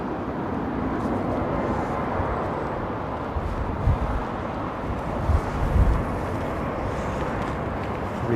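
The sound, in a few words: Boeing 747 aircraft arriving at Heathrow runway 27L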